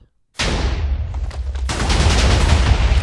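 In Minecraft, after a brief silence, a TNT cannon fires: a sudden blast erupts into a dense, continuous barrage of TNT explosions that keeps roaring and crackling to the end.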